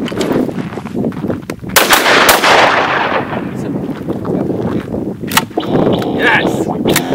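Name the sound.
gunshots at a shooting range, Tannerite target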